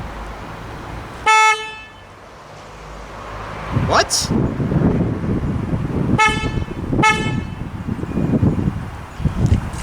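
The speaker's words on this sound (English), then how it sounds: "So let's see what the Skoda is like." A 2022 Skoda Enyaq iV electric car's horn honks three times, each a short, bright tone, amid wind buffeting the microphone and a brief spoken exclamation.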